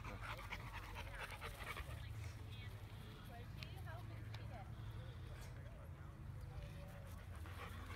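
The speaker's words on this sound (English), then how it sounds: "that's my husky." A husky pants steadily at a dog park, rapid breathy rhythm close by, while people chat over it throughout.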